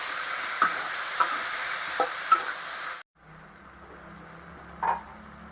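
Pumpkin pieces sizzle in a hot pan with tempering spices, steady frying hiss punctuated by several sharp clicks of a spoon stirring, then quieter sizzling with one more scrape.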